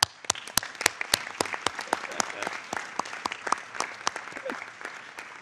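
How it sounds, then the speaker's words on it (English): Audience applause at a UN panel discussion in New York on the creative economy, a sustained round of clapping from a seated crowd with sharp individual claps standing out over the general patter throughout. "join me in giving a big applause to our dignitaries on the high table for their inspirational statement"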